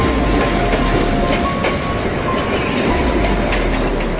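A KRL commuter train running on rails, a loud, continuous rumble with steady rolling wheel noise and faint clatter, heard close up from inside or beside the train.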